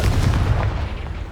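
A Confringo blasting spell detonates in Hogwarts Legacy, a dense, low booming rumble that holds steady and loud for over a second before easing slightly, with no voices over it.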